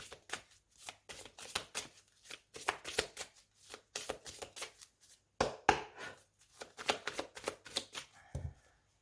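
Lenormand oracle cards being shuffled by hand in close, quiet bursts of riffling and flicking, repeated several times with brief pauses between.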